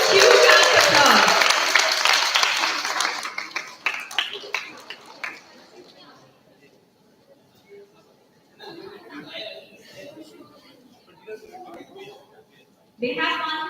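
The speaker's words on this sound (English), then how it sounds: "Please give a huge round of applause." An audience at an MSME ministry event applauds the runner-up team for their award. The clapping starts fairly loud, mixed with chuckles, then thins into scattered claps. Talk follows and a fresh burst comes at the end.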